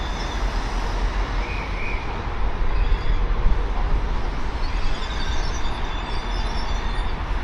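A train rumbles steadily through Sheffield station, heard from above, a broad continuous roar with faint squealing overtones, at a moderate distance.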